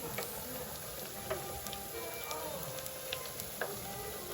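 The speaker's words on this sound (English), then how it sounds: "This is my okra frying." Soft, steady sizzling of okra frying in oil, fairly quiet, with faint crackles and occasional small pops throughout.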